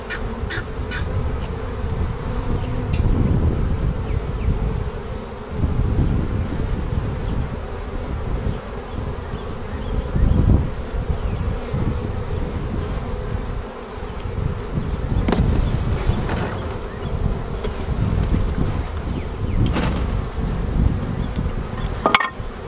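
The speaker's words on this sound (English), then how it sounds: "lots and lots of bees" Honey bees swarm around an opened hive during a spring inspection, with drones among them, making a loud, dense, continuous buzz close by and no voices.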